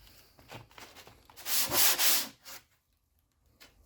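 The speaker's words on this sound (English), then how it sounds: "First thing we want to do is we want to sand our pad down smooth." A brake pad from a Mercedes-Benz AMG is rubbed across an abrasive surface to sand it smooth. Several quiet scrapes build to one louder, longer rasping pass and then trail off. The sanding is close by and no one speaks.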